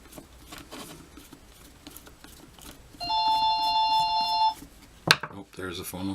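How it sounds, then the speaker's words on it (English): A telephone rings nearby in a workshop with one electronic ring lasting about a second and a half over light background clatter, followed by a sharp knock. "There's the phone."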